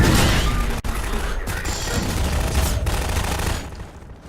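The AR-2 pulse rifle's alternate fire in the Half-Life 2 video game lands as a loud, dense barrage of blasts and crashing impacts. It fills the scene almost continuously before tapering off at the end.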